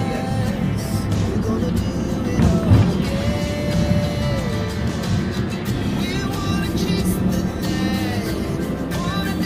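Road traffic rolls past on a congested road, a steady low drone of engines and tyres with occasional knocks and passing vehicles, and a faint voice somewhere in the mix.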